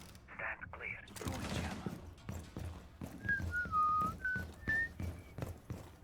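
A person whistles a short melodic tune of several sustained notes during a Rainbow Six Siege match, clear over sparse clicks, footsteps and distant gunfire from the game.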